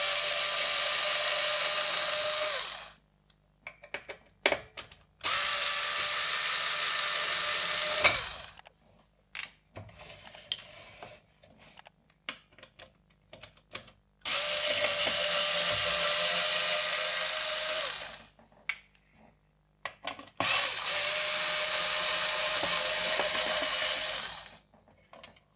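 Bursts of a cordless screwdriver or drill backing screws out of a metal-halide lamp fixture, four loud whirring runs of a few seconds each separated by quiet pauses with small clicks and handling noises.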